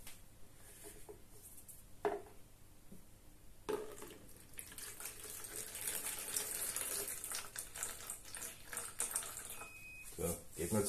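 200 grams of water pours in a soft, steady stream that gradually fills a container for a sourdough starter, quiet and close, after a couple of small clinks.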